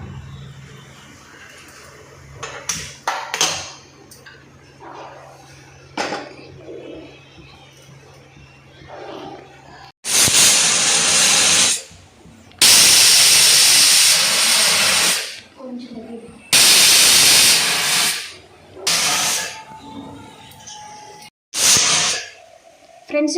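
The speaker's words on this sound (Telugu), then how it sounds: "మన కుక్కరు 5 విజిల్స్ వచ్చింది కదండి" A pressure cooker on a stovetop, cooking goat trotters paya, lets out loud, sustained blasts of hissing steam in several long bursts separated by short gaps, following a quieter stretch of kitchen noise.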